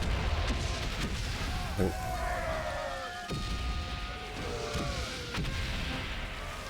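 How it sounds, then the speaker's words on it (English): Machine guns fire in the World War I game Valiant Hearts amid booming artillery, with distant rattling bursts, heavy thuds and whistling shells layered over a rumbling battlefield, and a man briefly exclaiming. "And there's the machine guns."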